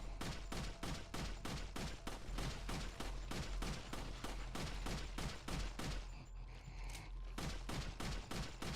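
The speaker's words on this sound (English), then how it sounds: "I guess we're just gonna dump all our ammo into it" Sustained rapid gunfire from Resident Evil 4 fills the scene, a dense run of loud evenly spaced shots with a short lull near the end before firing resumes, no voices.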